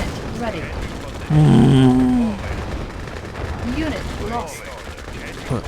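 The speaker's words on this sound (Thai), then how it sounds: "เรามีคอนสคริปยิงช่วยครับ" Rapid volley of infantry rifle fire from conscript troops in the strategy game Red Alert 2, a loud burst of cracking shots over a busy din of battle noise and game effects, with a voice talking over it.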